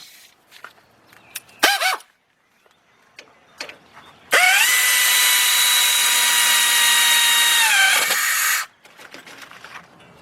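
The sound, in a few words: power tool tightening brake caliper bracket bolts, Lincoln Navigator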